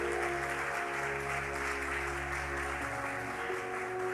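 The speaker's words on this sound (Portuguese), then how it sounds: "Vamos aplaudir o Senhor." A church congregation applauds steadily and fairly loudly throughout, with sustained instrumental music tones underneath, as at a worship service welcoming a family.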